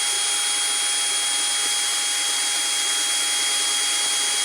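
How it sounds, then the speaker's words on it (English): A power drill bores into sheet metal for a drawer on a tool tray, giving a loud, steady high-pitched whine with a constant tone that holds unbroken from start to finish. "I think I'm going to drill this one from this position"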